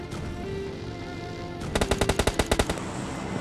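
A rapid burst of about ten automatic gunshots cracks out in PUBG Mobile Lite, loud and evenly spaced, after a stretch of steady in-game ambient rumble.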